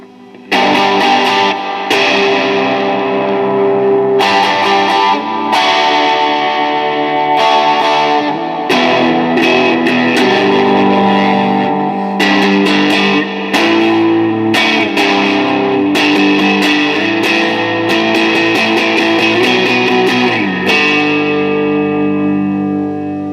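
Electric guitar played through an EHX Cathedral pedal on its plate reverb setting: loud, ringing chords and single notes with a smooth, lingering wash of reverb tails between strikes, continuous and close.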